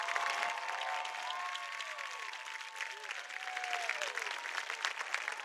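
A crowd applauds graduating students at a high school graduation ceremony, sustained even clapping from a large audience, with faint whoops and cheering voices rising through the wash of hands.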